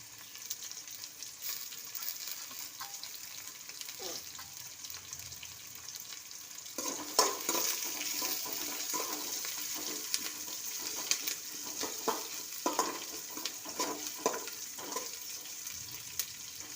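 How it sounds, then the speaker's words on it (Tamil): Onions and curry leaves sauté in a pan with rock salt, a steady sizzle broken by louder stirring scrapes and clatter in the second half, with no talking. "நல்லா வதங்கணுங்க கல் உப்புங்க வெங்காயம் வதங்கிறதுக்காக"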